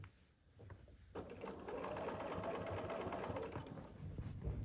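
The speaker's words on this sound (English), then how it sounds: "start sewing on this new edge" Sewing machine stitching binding onto a quilt edge starts after a second of quiet and then runs at a steady, close mechanical hum and rattle.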